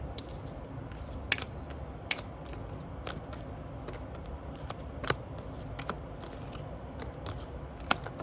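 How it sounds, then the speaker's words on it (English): A tarot deck is cut and handled close by, with crisp, irregular card snaps and light paper clicks over a soft background hiss. No one speaks. "Cut the cards."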